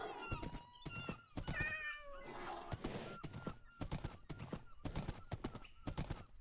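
Minecraft cats meowing in-game, several rising and falling meows in quick succession, mixed with rapid clip-clop hoofbeats and a neigh, all fairly loud and continuous.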